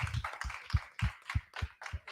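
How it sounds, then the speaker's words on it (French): Audience clapping in rhythmic, evenly spaced claps, fairly faint and distant, with no talking over it. "Donc on va applaudir très fort."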